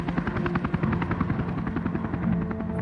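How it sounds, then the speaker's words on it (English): Westpac rescue helicopter lifting off, its rotor chopping in a steady rapid pulse with a loud engine whine, close and continuous throughout with no talk. "Westpac 1 is airborne tracking to Newcastle."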